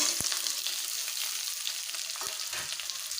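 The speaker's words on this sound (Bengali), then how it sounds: "পেঁয়াজ রসুনগুলোকে ভালোভাবে ভেজে নেব।" Chopped onion and garlic frying in hot oil in a pan, a bright steady sizzle with a couple of soft thuds from stirring, no talking.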